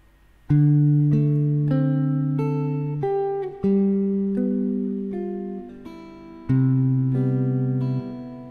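Solo guitar plays measures 11 and 12 of a song's solo, a slow phrase of sustained, ringing plucked chords and single notes, clear and close with no voices.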